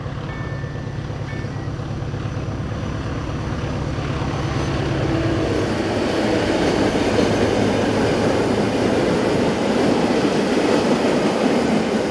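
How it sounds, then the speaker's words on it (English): SM42 diesel locomotive hauling empty ballast tippler wagons westward past a road crossing, engine drone building as it nears, then loud rhythmic wheel clatter over rail joints as the wagons roll by. "this road crossing is the location where we see SM42 number 621146 heading west with empty ballast tipplers."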